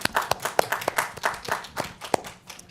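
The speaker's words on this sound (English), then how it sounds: "Let's all give Kathy a round of applause" A small group claps for Kathy at a recreation department meeting, with rhythmic, fairly close hand claps in a steady beat and no talking over them.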